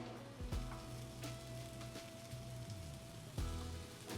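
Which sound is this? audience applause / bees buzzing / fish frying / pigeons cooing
fish frying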